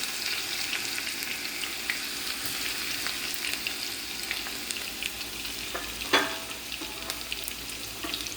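Garlic fries with cooked spinach in a pan off the heat, a steady close sizzle and hiss with faint stirring scrapes and one sharper clatter near the end, with no talk.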